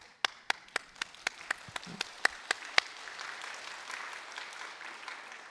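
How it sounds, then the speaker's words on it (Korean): Congregation applause in a church during a Sunday sermon: a few sharp, evenly spaced claps ring out first, then merge into steady, moderately soft clapping that fills the room. "특별히 사랑체풀은 박수로 감사해야 돼요."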